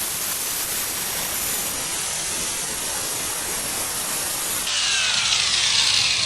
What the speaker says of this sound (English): I'm using real light pressure on my grinder